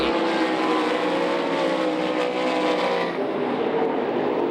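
Sprint race cars roaring around the dirt oval at Knoxville Raceway during the Masters Classic and USAC Midgets event, a loud continuous engine howl from several cars running single file, shifting pitch as they sweep through the turns.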